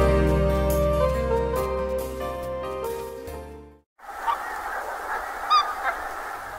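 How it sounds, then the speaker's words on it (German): After music fades out, a flock of pink-footed geese on the Frisian coast breaks into loud, overlapping honks and calls, near and clear, rising in bursts over a soft background. "Als erste besondere Art erleben wir diese Kurzschnabelgänse, die den langen Weg von Spitzbergen zu den fetten friesischen Inseln gemacht haben."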